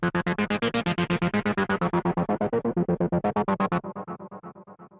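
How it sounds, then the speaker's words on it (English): A gritty, distorted techno synth bass with a stereo shaper, pumping in steady rapid pulses, loud and upfront, thinning out and softening over the last second. "One destruction effect to make the bass sound a little more aggressive."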